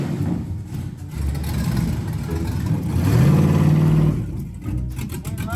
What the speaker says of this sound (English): It's all aligned and ready to go, so we're gonna back it off the rack